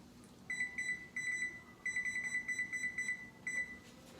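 A kitchen timer on a stove, set while marinara sauce simmers, gives a series of short, clear electronic beeps in irregular bursts, close and fairly quiet, with a low hum underneath and no talk.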